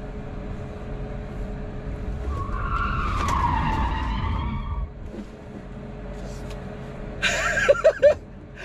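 An electric car's tires skid and squeal loudly for a couple of seconds while drifting, over a quiet hum, with no engine roar, then a few brief squeaks follow.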